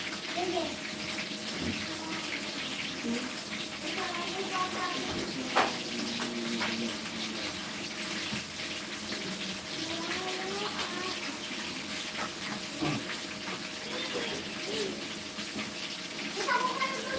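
Running water splashes and fills a container with cold water, a steady trickle through the whole stretch, while voices talk intermittently in the background.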